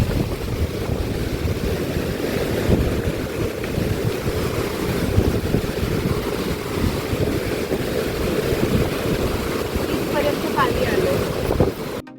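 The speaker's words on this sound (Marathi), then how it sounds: "आज खूप मोठ्या मोठ्या लाटा येत आहेत" Big waves roll in at high tide on Kondhura beach in the Konkan during the rainy season, a loud, continuous roar of surf with wind buffeting the microphone throughout.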